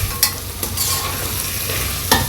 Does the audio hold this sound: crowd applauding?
no